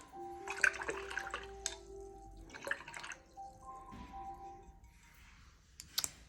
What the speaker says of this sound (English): I'm going to wash and rinse my brush.